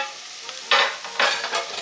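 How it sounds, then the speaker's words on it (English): Onions and garlic sizzle steadily in a hot pan, with short louder bursts of crackling as they are stirred, close up and with no talking. "With your onions gently frying"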